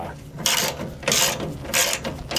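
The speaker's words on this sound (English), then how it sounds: "now that all four of my bolts are on, I'm going to go ahead and crank them down" A ratchet cranks down the mounting bolts on a Lippert double entry camper step, heard as three close bursts of quick, rhythmic clicking separated by short pauses.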